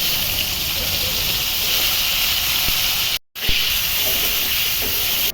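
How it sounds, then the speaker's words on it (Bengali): Chopped tomato going into hot mustard oil tempered with black cumin in a kadai, a continuous strong hiss and sizzle with one short break midway. "কড়াইয়ের তেলে কালো জিরা ফোড়ন দিয়ে তারপর দেব টমেটো কুচি"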